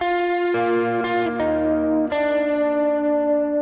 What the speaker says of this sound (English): Then this next part is actually the rhythm guitar that plays this